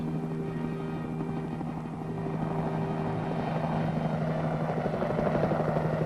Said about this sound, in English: The possibilities of pickup and delivery of artillery by helicopter is now in active development.